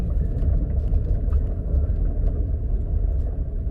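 A Subaru car drives over a rough, potholed road, its steady loud rumble and low road noise filling the cabin continuously with small bumps, no talking.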